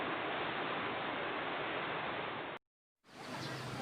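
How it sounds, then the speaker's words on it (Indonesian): The Kampung Buwo river in Padang rushes as a dense, steady broadband roar. It cuts to silence for about half a second, then resumes just as strongly. "Sungai Kampung Buwo yang mengalir dari Lubuk Tampuruang hingga Tunggul Hitam"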